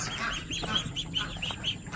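Ducks quacking repeatedly in a garden poultry yard alongside chickens, a run of short nasal calls fairly close by, with no talk over them.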